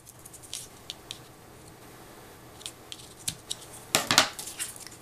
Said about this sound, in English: And then you can just trim off the excess.